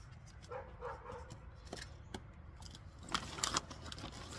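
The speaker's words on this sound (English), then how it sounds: "My neighbor's dog is going to start barking." A neighbor's dog barks outdoors in a few short, faint, distant bursts, joined near the end by a closer cluster of brief metallic clinks.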